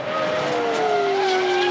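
A race car at a time attack event, Ferrari against Brabham, screams past nearby with a loud engine note whose pitch slides steadily downward as it moves away, with a hint of tyre noise.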